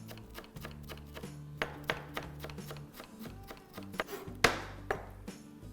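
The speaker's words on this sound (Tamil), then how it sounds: "ஃபைனாக சாப் பண்ணுங்கள்" Fresh curry leaves are finely chopped with a knife on a board, a quick series of close, crisp taps in uneven rhythm with a few sharper strikes, with no talking.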